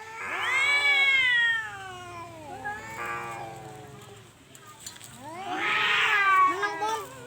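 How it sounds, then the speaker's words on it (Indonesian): Several cats meow and caterwaul in long, rising and falling cries, one after another with overlapping calls, fairly close and moderately loud over a low background hum. "Kucing papat."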